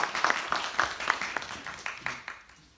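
Scattered applause from a small audience at a public meeting about the US 101/Zanker Road/Skyport Drive/Fourth Street improvement project, distinct claps fading out over a few seconds.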